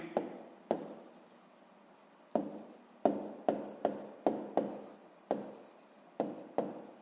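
A pen or pencil writes on paper during a sixth-grade math exercise, with a series of short, quiet scratching strokes, some in quick succession and some spaced by brief pauses.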